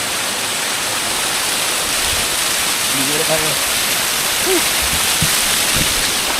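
A waterfall in Puerto Princesa, Palawan pours in a steady, loud broadband rush that fills the whole clip, with a few short spoken words heard faintly over the falling water.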